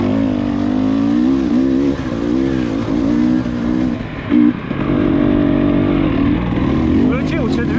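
An enduro motorcycle climbs a mountain trail at high altitude, its engine droning and revving loud and close in fourth gear with shifting pitch, while someone talks over it.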